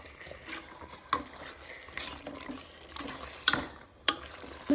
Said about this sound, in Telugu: ఒకసారి బాగా కలుపుకోవాలి ఇలాగా.